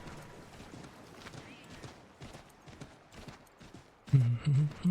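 Quick, rhythmic hoofbeats of a galloping horse in the video game Assassin's Creed III, fairly faint, with a louder voice briefly cutting in near the end.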